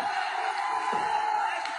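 An angry mob shouting during riots in Delhi, a dense, steady roar of many voices filling the air without pause for the whole stretch, fairly loud and close.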